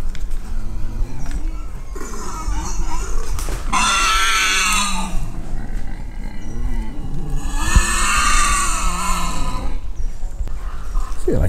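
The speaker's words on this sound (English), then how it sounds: "I feel like David's bloody Attenborough in a zoo looking at pigs." Pigs at an animal park in Han, Belgium, grunt in a low, continuous murmur, with two louder, rougher bursts of squealing noise standing out close by.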